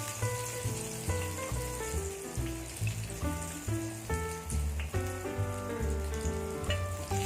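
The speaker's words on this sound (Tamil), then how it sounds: "இது மாதிரி எல்லா வடையும் சுட்டு எடுத்து வச்சுக்கோங்க" Prawn vadai frying in hot oil, giving a faint, continuous bubbling sizzle with no voices over it.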